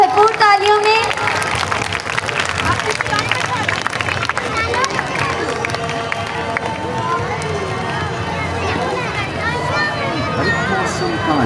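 Clapping and crowd babble fill a school Independence Day event, a dense continuous applause mixed with chatter and a voice talking over it throughout.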